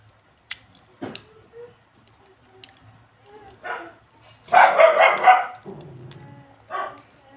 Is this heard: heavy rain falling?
no